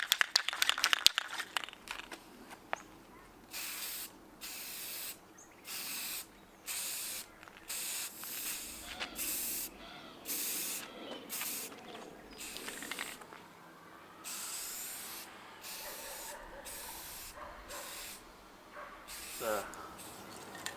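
Spray can hissing out a second coat of primer onto a Piper Archer model plane, in repeated short bursts of one to two seconds with brief pauses, close and steady.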